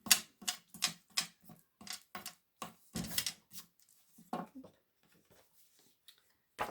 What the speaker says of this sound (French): Donc là je gomme mon trait